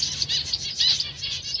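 Gouldian finches, zebra finches and red-faced parrot finches in an aviary give bright, high chirps and tweets over soft flutters of wings, busy and close, with no talking.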